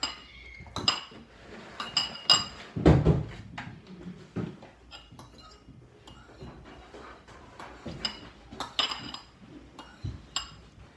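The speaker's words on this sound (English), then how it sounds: "you want to keep whisking it until it has kind of weird colors, but it's mostly yellow because of the yolk" Eggs are whisked in a bowl, giving rapid, uneven metallic clinks and scrapes close by, with louder bursts around the middle and no talking.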